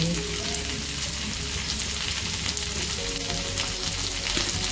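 Garlic, green chilies and coriander fry in a pan for traditional chili thecha, a dense, loud, continuous sizzle that holds steady throughout with no talking.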